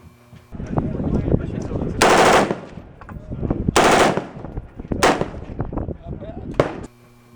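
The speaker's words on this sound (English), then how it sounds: "here's what a fully automatic version, the M4 version of the M16 rifle that our military uses, that's what that looks like firing" Fully automatic M4, the military version of the M16 rifle, firing loud sustained bursts, with several long rattling volleys and a few shorter ones spread across the span.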